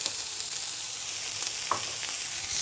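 Zucchini hitting a pan of frying vegetables for an eggplant gratin, a steady crackling sizzle throughout with a brief brighter spatter partway through, close and alone without talk.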